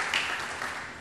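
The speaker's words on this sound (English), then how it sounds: "can we give Steve another round of applause" Brief burst of audience applause at a county economic development meeting, a steady hiss of many hands clapping heard for about a second with no voices.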